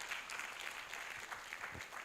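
Quiet applause from a conference audience at an international biomedical and biotechnology conference, an even patter of many hands clapping. The sound is faint and sits at a distance throughout.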